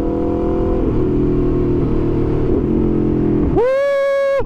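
A 2023 Aprilia RSV4 Factory motorcycle engine drones at steady revs, then a sharp quickshifter auto-blip jumps it into a loud, rising high-pitched wail at close range, with no talk.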